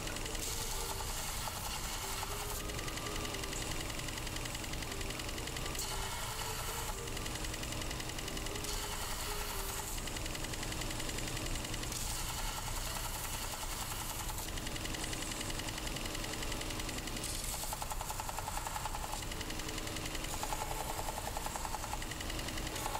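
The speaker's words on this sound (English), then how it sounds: "You can use the belt sander here at this point" A belt sander shapes and thins a handmade knife handle, a steady loud mechanical whir and grinding roar running without a break, with its pitch and texture shifting slightly as the workpiece is pressed against the belt.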